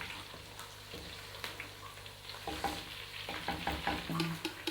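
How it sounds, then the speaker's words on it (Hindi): Whole small round dried red chilies fry in a pan of oil for saag, giving a soft, steady sizzle near the mic with faint stirring scrapes, fairly quiet and without talk. "ये सुरख मिर्च है, ये साबित, ये छोटी वाली गोल वाली, ये हमने इसमें डाल दी।"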